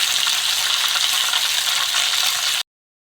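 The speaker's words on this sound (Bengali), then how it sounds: "পেঁয়াজটা লাল হয়ে যাওয়ার পরে চিকেনটা আমরা ঢেলে দিলাম" Chicken frying in a pan with browned onions, green chillies and red chillies, a steady loud crackling sizzle that runs unbroken for most of the clip and then cuts off abruptly.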